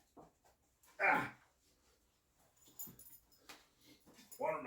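A dog breathes and pants close by, giving a sharp whimpering whine, with soft scuffles and small movements around a kitchen.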